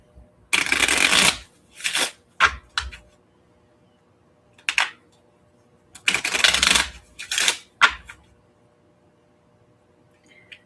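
A deck of stiff playing cards is shuffled in several bursts, riffles and quick snaps, loud and close with quiet gaps between them and no talk over it.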